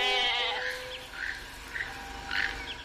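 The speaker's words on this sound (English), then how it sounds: "They give the Rex a little tiny goat." A small goat bleats in a Jurassic Park film scene, several wavering, nasal bleats spread over a few seconds at moderate loudness following a brief tonal sound at the start.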